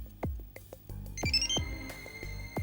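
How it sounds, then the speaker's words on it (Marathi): A phone ringtone plays a short electronic melody in a Marathi family drama scene, mixed with background music and deep thumping beats. "बरं आता फोन तरी घेऊ का?"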